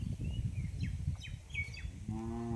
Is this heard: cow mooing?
yes